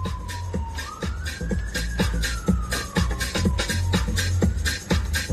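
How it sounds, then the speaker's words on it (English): A police car siren on a London street on New Year's Day wails in a slow rising and falling tone, fairly distant, over a layer of nearby shuffling and street noise. "There's a police car."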